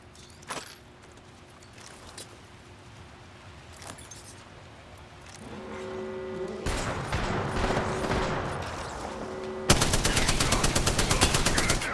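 Gunfire in an Apex Legends match: scattered distant shots at first, then louder rapid bursts building to a close, intense automatic volley at the end.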